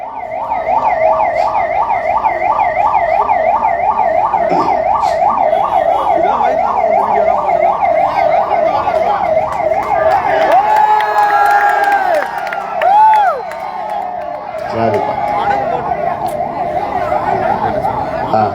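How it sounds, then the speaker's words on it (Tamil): An ambulance siren wails loudly and continuously through a crowded outdoor political rally, its rising and falling tone dominating over crowd noise before it sweeps past and fades into the general din. "ஆம்புலன்ஸ் வர்றதுக்கு நம்ம கட்சியினர் வழிவிடுமாறு அன்போடு கேட்டுக்கொள்கிறோம்."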